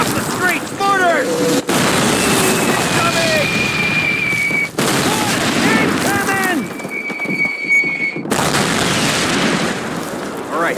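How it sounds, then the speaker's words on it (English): Mortar fire and explosions in the Call of Duty video game's World War II combat: a continuous roar of heavy blasts and battle noise, with shouting voices over the din throughout. "Mortars!"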